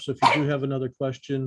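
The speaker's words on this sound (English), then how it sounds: "sorry about my dog" A pet dog barks a few times in a home, partly covered by someone speaking steadily over it.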